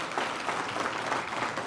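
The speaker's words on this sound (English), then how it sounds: "Why don't we welcome them with a warm, warm clap?" Brief burst of warm audience clapping welcoming the presidents of Kenya and Mozambique at an investment conference in Kenya, a steady crowd patter without a break.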